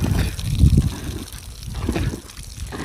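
Water is splashed by hand onto mud being worked into plaster for a brick kiln, coming as repeated wet slaps and trickles in an uneven rhythm, close and fairly loud.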